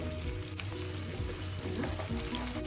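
Seeds, fennel and ajwain crackling in hot oil, a close, steady sizzle with small pops and faint stirring, part of making Indian gooseberry pickle.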